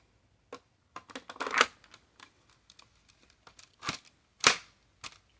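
Custom-built Lego AR-10 toy rifle firing, a scattered series of sharp plastic clicks and snaps, some single and some in quick bursts, close and dry with no talking.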